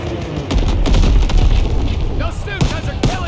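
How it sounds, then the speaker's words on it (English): A flak gun in a 1944 Operation Cobra World War II battle game fires repeated loud booms, with sharp gunfire cracks and battle noise throughout and a voice shouting over the din. "There's the flak gun!"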